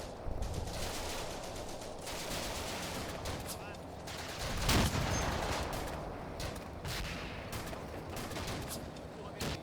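Anti-tank rifles fire at a tank in Combat Mission: Afrika Korps, a dense, continuous clatter of gunfire with one louder crack near the middle. A voice talks faintly underneath.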